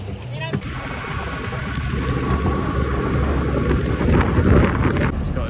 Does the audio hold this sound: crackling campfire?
no